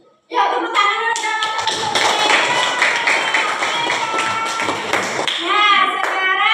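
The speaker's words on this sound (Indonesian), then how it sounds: "Ya, tepuk tangan dulu." A classroom of children at an Indonesian school claps hands together, a dense burst of rapid claps lasting several seconds, with children's voices mixed in near the start and end.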